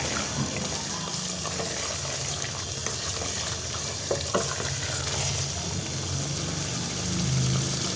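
Chicken heart and liver gravy with yogurt bubbles and fries on a high flame, giving a steady, close sizzling hiss with faint stirring scrapes throughout and no talk.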